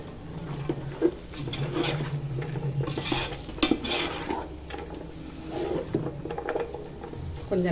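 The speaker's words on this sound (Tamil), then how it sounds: "கொஞ்ச நேரம் வதங்கட்டுமா" Vegetables such as beans and green peas sautéing for veg brinji, with a spoon repeatedly scraping and clanking against the pan over a soft sizzle, moderately close and continuous.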